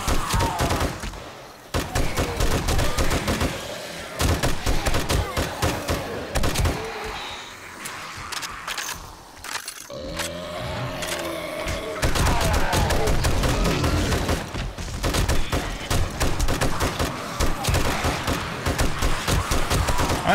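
Gunfire in the video game 7 Days to Die, Undead Legacy mod, with dense, loud volleys of rapid automatic shots that repeat throughout with only short pauses. A voice speaks now and then beneath the shooting.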